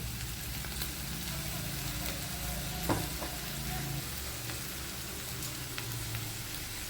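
Potato stir fry with salt, chili powder and turmeric stirred in a pan, a faint continuous sizzle with soft scraping strokes over a low steady background hum.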